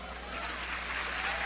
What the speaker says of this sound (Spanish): ¿No le dan un aplauso?